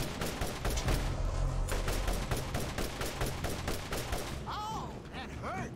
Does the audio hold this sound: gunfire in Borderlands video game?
yes